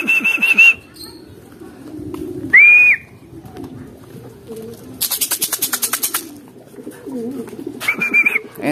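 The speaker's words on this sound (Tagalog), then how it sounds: "Third bird." Racing pigeons arrive at a loft during training, with soft cooing and a burst of rapid wing flaps amid short high electronic beeps and background noise from the loft.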